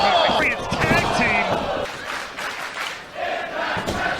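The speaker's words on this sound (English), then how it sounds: "Sold out crowd here at the Rebel." A sold-out crowd at an Impact Wrestling Rebellion event roars and cheers in a large arena, a loud, continuous wash of voices with shouts rising above it, mixed under a commentator's play-by-play.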